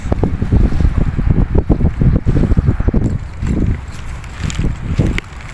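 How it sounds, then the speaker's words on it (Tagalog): Strong wind buffets the microphone in loud, rough gusts while fishing in Abu Dhabi, with a choppy rushing roar that eases slightly toward the end. "Kahit malakas ang hangin"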